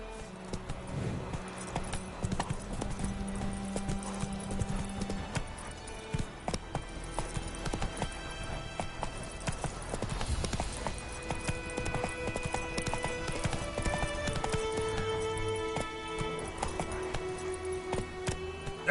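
The horse Roach from the video game Witcher 3 trots along with steady, rhythmic clip-clopping hooves, close and continuous under a soft game ambience, with no talking.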